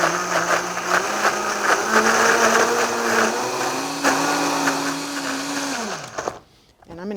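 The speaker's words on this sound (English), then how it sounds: "All right, so we're just gonna give this a good blend." A blender whirs loudly while blending cranberry and grapefruit relish, its motor pitch stepping up as the mixture breaks down, running for about six seconds before cutting off; a voice speaks briefly.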